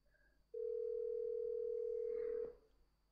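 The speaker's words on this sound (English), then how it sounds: "I'm going to tap on the phone app. And I'm going to call Deidre, who's a colleague on the watch team." An Apple Watch placing an outgoing phone call over cellular gives a single steady ringback tone of about two seconds, faint and close, over quiet room noise with no voices.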